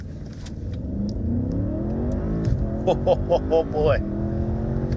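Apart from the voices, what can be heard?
car accelerating hard from launch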